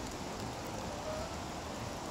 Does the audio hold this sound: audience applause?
no